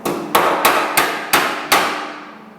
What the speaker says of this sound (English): I'm going to get this dollied a little bit right here.